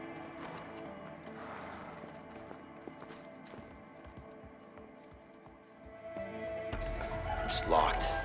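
Horses whinny and their hooves clatter in a barn scene from the video game A Way Out, starting faint and growing louder with a burst of neighing and movement near the end.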